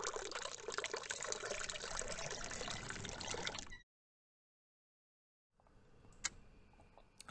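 A faucet in a hidden-object puzzle game pours water in a steady splashing stream that cuts off suddenly, followed by silence and then faint dripping and small clinks.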